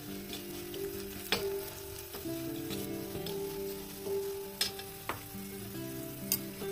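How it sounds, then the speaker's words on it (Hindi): Coriander-cumin powder, turmeric and salt fry gently in a pan for cabbage kofta curry, a soft, steady sizzle with a few faint clicks of a spoon stirring. "मसाले देखिए अच्छी तरह से भून गए हैं।"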